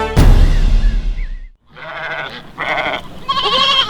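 Several goats bleat in loud, wavering calls in a Maratha-era field setting, with a brief silence followed by three distinct bleats in close succession, each quavering and nasal, near and prominent.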